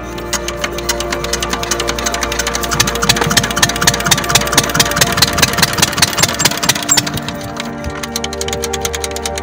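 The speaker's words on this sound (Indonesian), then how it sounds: "mesinnya ternyata agak macet nih pemirsa" A compressor engine supplying air for breathing runs roughly with a fast, uneven, rattling idle that stays loud and close throughout, rising slightly in the middle before steadying, with no voices.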